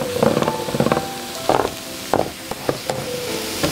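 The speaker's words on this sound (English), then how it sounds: "I'm gonna add my flour and I'm gonna stir it for 1 minute." Flour being stirred into a sizzling pan for chicken tetrazzini makes a steady frying hiss, broken by several scraping stir strokes at uneven intervals, close and clear with no talking.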